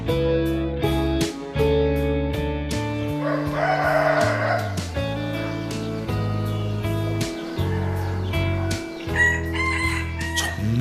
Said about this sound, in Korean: 정말 오랜만에 닭울음 소리를 들으며 깼습니다.